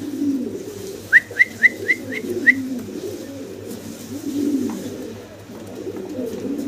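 Fancy pigeons coo in a low, soft, continuous murmur close by, while a bright bird whistle rises through about six quick chirps in a row near the start.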